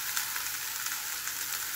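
Three fish sizzle in hot oil in a pan, a steady bright crackling hiss with small popping bursts, close and continuous, no voices.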